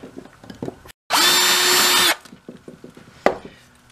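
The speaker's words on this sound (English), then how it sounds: "So we're putting a hole here at the front of the box on the same side as the hinges on the top side" Power drill boring a hole through a wooden cigar box guitar body, one steady loud whine of about a second, framed by quiet handling knocks and taps.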